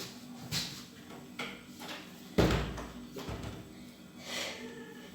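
A door being handled indoors: several knocks and thumps, then one sharper bang near the middle, with quieter rattles and clicks in between.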